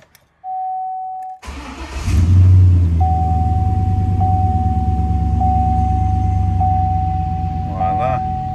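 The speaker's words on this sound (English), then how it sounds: "Just start it up and make sure everything's good." A GMC truck engine cranks and catches after a chime, then settles into a steady, loud idle with a slight rev, recorded close to the truck with a warning tone beeping over it.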